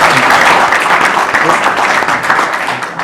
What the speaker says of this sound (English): Let's have a round of applause for 27 years of high school kids